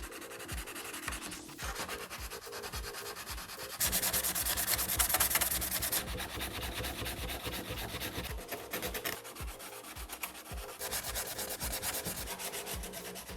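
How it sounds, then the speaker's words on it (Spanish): Coarse sandpaper rubs over the fairing of a 1989 Honda CBR 1000F in steady back-and-forth strokes, close and continuous, with a louder, harsher stretch in the middle and no talking. "Lo vamos a lijar un poquito antes, le vamos a dar con un grano grueso"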